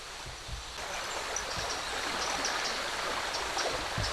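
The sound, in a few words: Vanne river flowing through the park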